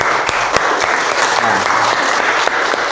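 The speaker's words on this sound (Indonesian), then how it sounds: "Kemudian kita apresiasi dulu pertemuan kita pada hari ini dengan tepuk semangat" A class in an Indonesian teaching session joins in a spirited group clap, loud and close, with sharp rhythmic accents punching through a continuous bed of applause.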